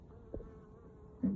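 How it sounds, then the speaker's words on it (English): A wasp hovers at the entrance block of a beehive during a varroa shook swarm, a faint, steady buzz with a low insect drone and light outdoor background. "there's a wasp wanting to get in there, and it managed to"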